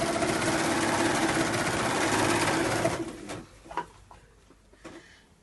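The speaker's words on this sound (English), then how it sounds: "thank you to my friend who have loaned me her sewing machine for this project" A borrowed sewing machine stitching scrubs and masks for care home workers runs in a steady, loud continuous whir for about three seconds, then stops, leaving a few faint clicks and handling knocks.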